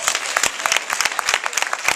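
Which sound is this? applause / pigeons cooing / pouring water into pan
applause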